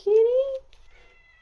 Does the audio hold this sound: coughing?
no